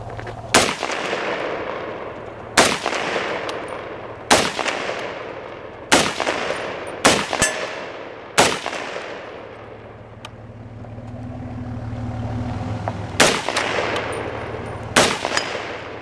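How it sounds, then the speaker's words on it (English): Rifle shots at an outdoor shooting range firing at targets, about nine sharp loud cracks spaced a couple of seconds apart with a low rumble between them, no talking. "We shot all the targets."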